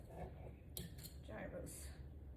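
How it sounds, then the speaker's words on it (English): A knife slicing meat on a board for Greek souvlaki: faint, quiet taps and light metallic clinks scattered through the moment, with a voice talking over them. "Slice this meat up so that I can make me a sandwich."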